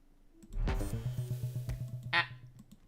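Quick, even computer keyboard typing: a run of about a dozen soft, regular clicks heard close, with a brief breathy noise at the end.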